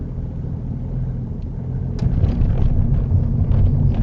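Cars pass at a double roundabout in Norris Green, heard as a steady low road rumble with wind noise that swells midway as a vehicle draws nearer, with no talking.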